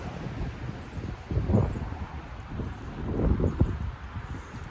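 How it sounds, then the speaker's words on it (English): Wind gusts outdoors in northwestern Pennsylvania, a rough buffeting roar that swells twice against the microphone, with faint rustling underneath and no voices. "Love that wind."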